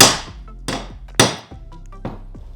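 A hammer strikes metal during renovation work on a Suzuki DR650 motorcycle, four sharp ringing blows spaced about half a second apart, each decaying quickly, close and alone.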